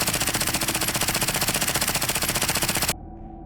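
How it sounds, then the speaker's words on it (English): A miniature submachine gun chambered in .45 ACP fires a sustained rapid burst into a ballistic shield, loud and close, ending abruptly after about three seconds into quiet. "45 ACP loaded into a miniature SMG."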